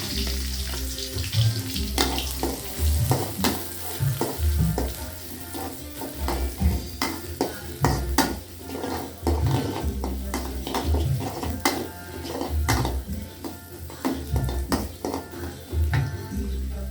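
Shallots, garlic, turmeric and ginger sautéing in a pan, a bright sizzle broken by frequent scraping and clanking of a utensil stirring against the pan, close and busy throughout.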